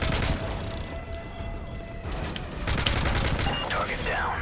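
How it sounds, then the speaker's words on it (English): Game gunfire during a Kill Switch Spec Ops DLC mission in Modern Warfare 3 on veteran difficulty, a steady clatter of shots through the clip with denser bursts toward the end, beneath game sound and radio voice chatter. "Provide cover fire for Scarecrow."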